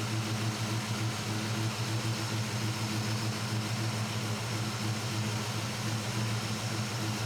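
A carbureted engine idles during carburetor tuning with an air-fuel ratio problem, giving a steady, loud, low droning hum with an even pulse and no changes in speed.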